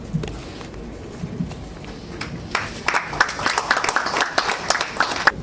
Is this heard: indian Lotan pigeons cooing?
no